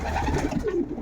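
Domestic pigeons coo in a pigeon loft, giving a brief, soft, low burbling call heard close by, with no talk.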